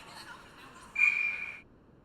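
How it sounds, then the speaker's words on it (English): Referee's whistle at an ice hockey game, a single bright sustained blast of about seven tenths of a second, moderately near, rising above low arena crowd murmur. "We're going to have a whistle."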